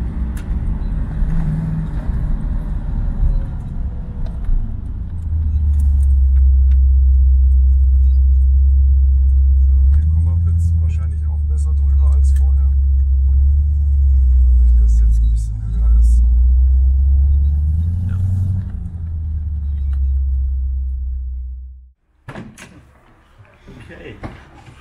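A 1972 Chevrolet Corvette C3 on a test drive after front wheel alignment, its engine a loud steady low rumble from inside the car that swells and eases with speed, then cuts off near the end as the car stops.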